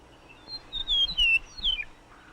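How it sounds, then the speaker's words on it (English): A common meadowlark sings in open fields, a run of clear, high, sliding whistled notes lasting about two seconds, fairly close and alone with no voices. "The open fields have their bird citizens, including the common meadowlark."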